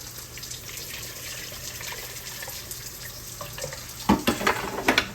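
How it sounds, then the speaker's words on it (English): Water pours into a pan of gravy with chicken base, a soft steady gush that grows louder and splashier near the end, with no talking. "We're going to put some water in here"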